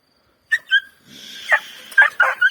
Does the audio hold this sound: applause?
no